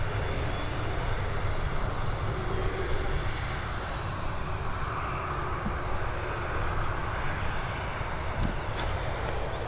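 A jet airliner rumbles in to land at Dublin Airport, a broad continuous roar that stays loud and steady throughout with no voices present.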